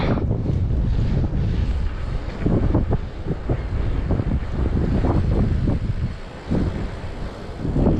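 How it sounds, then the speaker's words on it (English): Strong wind buffets the microphone outdoors while someone walks into a headwind along a neighborhood street, giving a loud, continuous rumbling roar with uneven gusts throughout. "I'm going against the wind a little bit"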